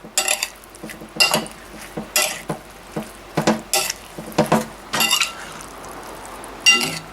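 Metal utensil stirring and scraping bok choy and eggplant in a pan, a series of uneven clattering clinks and scrapes at close range with no talking.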